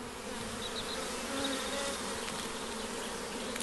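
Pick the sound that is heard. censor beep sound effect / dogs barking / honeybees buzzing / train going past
honeybees buzzing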